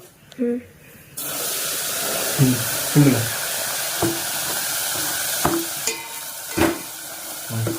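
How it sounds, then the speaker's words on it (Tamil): Semolina (rava) roasting in a pan for kesari, a continuous dry hiss with repeated scraping stirs of a spoon at irregular intervals, close and fairly loud after a quiet start. "இப்போ நம்ம ரவையை இதில் போட்டு வறுத்துக்கலாம்"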